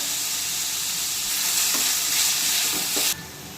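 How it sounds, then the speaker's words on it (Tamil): Beetroot fries in hot oil with a loud, continuous crackling sizzle, while a spoon stirs and scrapes it through the pan. The sizzle cuts off sharply near the end. "பீட்ரூட் நல்லா எண்ணெயிலே அஞ்சு நிமிஷத்துக்கு நல்லா வெந்து வரட்டும்"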